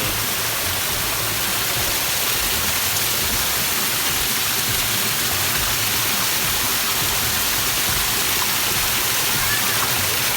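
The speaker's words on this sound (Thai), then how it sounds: "อันนี้น้ำตกเล็กๆ" A small waterfall at Chatwarin Waterfall in Sungai Padi, Narathiwat, Thailand, rushes in a loud, steady wash of white noise that never lets up, close by and alone.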